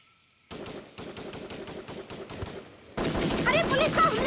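Movie sound effect of gunfire during a police attack: repeated machine-gun bursts in a steady rhythm, then a louder, denser barrage of shots.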